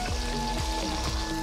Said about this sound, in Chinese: 放鸡翅下去煎